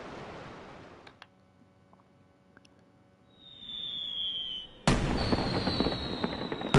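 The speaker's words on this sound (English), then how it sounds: "fireworks display." A fireworks display in the Final Fantasy XII video game: a quiet stretch with a few faint pops and a rising whistle, then a loud burst of crackling explosions that carries on densely to the end.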